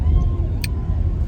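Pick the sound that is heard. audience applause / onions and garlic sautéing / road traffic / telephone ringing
road traffic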